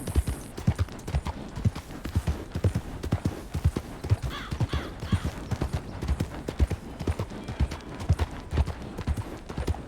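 Horse hooves clip-clop in a steady trotting rhythm in a Western video game, close and distinct, with an occasional faint whinny and no talking.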